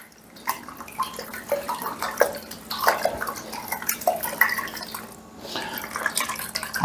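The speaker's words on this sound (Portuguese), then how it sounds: "Você vai mexendo na água assim, ó. Todo o fermento já vai sendo diluído." A hand stirs yeast into cold water in a bowl, making a steady run of close sloshing, swishing splashes with small clinks against the bowl and a brief lull near the end.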